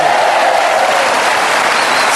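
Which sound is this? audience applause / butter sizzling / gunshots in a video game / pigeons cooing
audience applause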